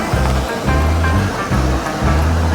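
River flowing through forest: loud, steady rushing water with rhythmic surging pulses, close by and continuous.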